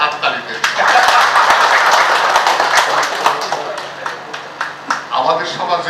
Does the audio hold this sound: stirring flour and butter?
no